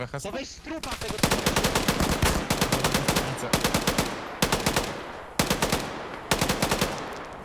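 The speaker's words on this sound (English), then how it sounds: "that marksman and that machine gunner are doing a great job thinning them out" Sustained machine gun fire in an Arma combat match, loud and close, coming as a rapid run of bursts with short gaps between them and no talking over it.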